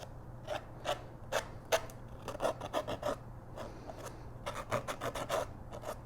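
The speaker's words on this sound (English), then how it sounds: "I'm just going to take my nail file and clean up my edges" A nail file rasping along paper edges on a desktop calendar craft, a quiet series of short, quick scraping strokes in bursts, close and without talk.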